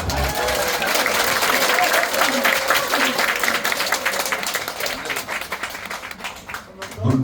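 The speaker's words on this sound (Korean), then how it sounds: "큰 박수를 부탁드립니다" Audience at a Korean party members' meeting in Daegu claps in a sustained, dense wash of applause, loud and even throughout before thinning slightly near the end.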